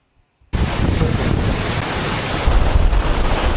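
Hurricane Helene's storm surge at Cedar Key: after a short silence, a loud constant roar of churning water and heavy wind buffeting the microphone, growing slightly stronger toward the end.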